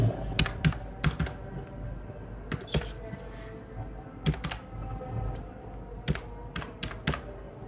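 Computer keyboard clacking as card details are entered, with short bursts of keystrokes and brief pauses, close and fairly quiet, no speech.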